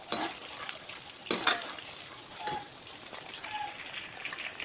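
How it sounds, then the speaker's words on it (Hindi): Eggplant pieces frying in oil for a home recipe, a steady close sizzle with a few sharp scrape-and-stir bursts over the 4.7-second stretch, no voices. "हल्का से इसे फ्राई करेंगे, लाइट ब्राउन हो जाएगा तो इसे बस निकाल लेंगे"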